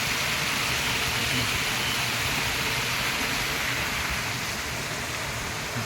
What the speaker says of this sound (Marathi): इथून हा धबधबा आहे परत